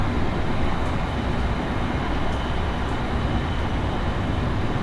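A steady, loud rumble and rushing roar fills the cabin of an E5 series Tohoku Shinkansen Hayabusa running at reduced speed through Utsunomiya station, with a few faint high clicks over the constant drone.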